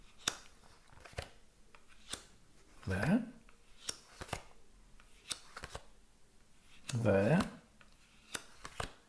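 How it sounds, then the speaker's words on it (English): Tarot deck shuffled by hand, two longer riffle bursts with bridging flutter amid scattered soft card taps and snaps, close and fairly quiet, with a voice speaking briefly. "You've got to shuffle really thoroughly."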